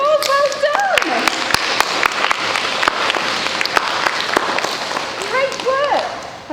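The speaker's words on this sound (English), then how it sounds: "can we give these girls a huge round of applause?" Children and staff at a school assembly clap for a group of girls, a dense, lively applause with sharp individual claps standing out, while voices and excited calls rise over it near the start and end.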